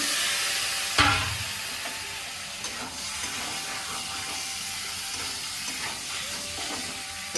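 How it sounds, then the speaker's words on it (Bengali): Meat with spices and green chillies being stir-fried in a pan gives a steady close sizzle and hiss, with occasional spoon knocks and stirring scrapes throughout. "চলো এখন এইভাবেই কষাবো মাংসটাকে অনেকক্ষণ ধরে"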